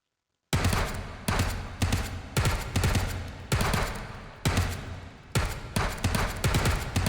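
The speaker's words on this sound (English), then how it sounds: "Let's do some burst fire" Bursts of MP5 gunfire in the VR shooter H3VR, several separate volleys of rapid loud shots separated by short pauses, close and sharp with no talking.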